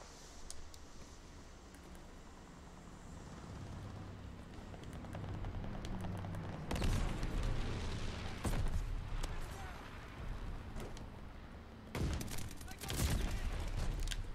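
Bursts of rapid automatic gunfire in Call of Duty Vanguard, sustained pre-firing that swells loudly in two long stretches over steady battlefield rumble, with someone talking over the shooting.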